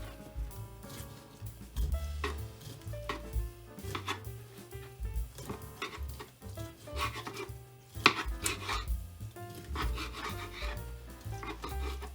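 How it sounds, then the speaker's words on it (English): Fruit being cut into small pieces on a board for blender juice, a busy run of knife chops and scraping taps, close and fairly loud, with no talking. "I'm gonna just go ahead and cut it into small pieces for my blender"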